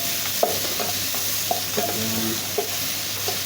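Tomato stirred as it fries in a pan, a constant sizzle with intermittent scraping clicks from the stirring utensil, close and fairly steady.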